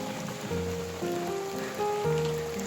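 Rain falls steadily on a mountain hiking trail, a dense continuous patter with scattered drops, while tonal notes drift in and out underneath.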